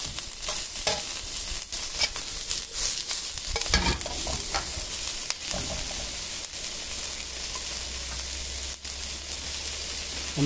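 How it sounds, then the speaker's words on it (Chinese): Onions stir-fried in a wok for fried rice, with a steady sizzle and repeated scraping and stirring strokes throughout, close and fairly loud, no talking. "洋葱炒出香味"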